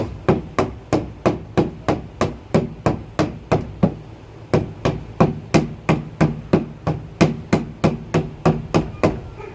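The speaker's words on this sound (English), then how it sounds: "they recommend using a rubber mallet just to get it locked in place" A rubber mallet tapping a resin garden shed panel into place, about twenty-five sharp evenly spaced knocks in two quick runs with a brief pause between, loud and close.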